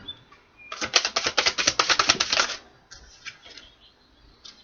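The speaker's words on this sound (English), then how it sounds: "One more shuffle here." A deck of tarot cards is riffled in one quick, crisp burst of rapid flutters, followed by a few softer taps and shuffles as the cards settle.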